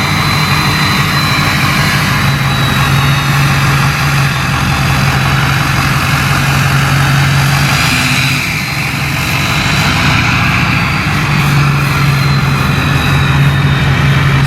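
A 6.0 Power Stroke diesel in a Ford F350 runs steadily, a loud continuous low rumble with a droning hum throughout, no voices over it.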